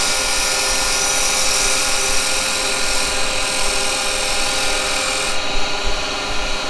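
A carbide woodturning tool cutting yew on a lathe, a steady loud scraping rasp of the spinning wood under the tool that runs continuously with slight shifts in tone.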